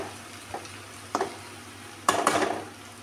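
Tomatoes going into a frying pan of wild onion bhaji: a few short clinks and scrapes, then a sudden louder hiss of sizzling, close by with no speech.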